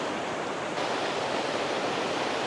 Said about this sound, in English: That creek is ripping today